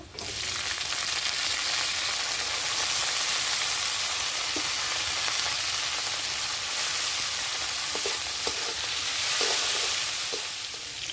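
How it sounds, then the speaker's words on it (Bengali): Chopped onion and banana flower frying in a pan with a steady loud sizzle and hiss throughout, broken by occasional scraping clicks of stirring. "তারপরে দেব পেঁয়াজ কুচোনা, বন্ধুরা মোচাটা দিয়ে দেব।"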